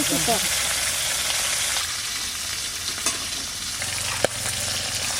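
Bitter gourd masala frying in a kadai, a steady close sizzle with soft stirring scrapes and an occasional sharp clink of a utensil against the pan.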